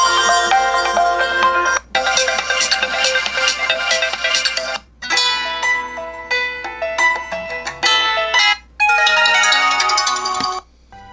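A melodic ringtone plays loud and bright through the speaker of an LG V50S smartphone, a repeating chiming tune in phrases with brief gaps, alone with no talking.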